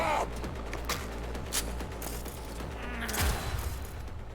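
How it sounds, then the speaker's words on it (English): Rapid, rhythmic .50-caliber gunfire from a Cyberpunk 2077 firefight, steady repeating bursts held at an even loudness throughout, with a speaking voice briefly underneath. "I'm pumping her with a 50 cal, dude."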